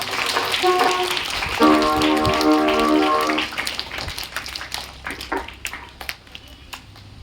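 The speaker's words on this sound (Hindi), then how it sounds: "जोरदार ताली करेगा" Students at a school Saturday prayer assembly applaud in a broad, steady burst of clapping with a musical tone running through it, then the clapping thins into scattered claps.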